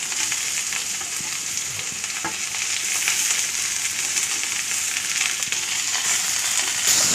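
Steady, loud sizzling of cut ivy gourd (kovakkai) frying with onion in a pan, with occasional stirring scrapes and no talking.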